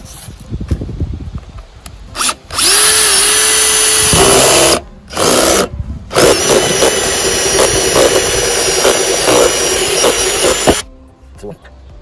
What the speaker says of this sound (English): So with this drill, it comes a lot of microplastics.